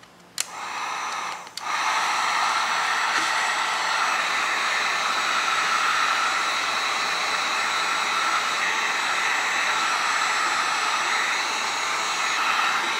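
A hot air blower heats a foam pumpkin with a continuous loud, breathy hiss that starts with a click, cuts briefly near the start, then runs steadily to the end.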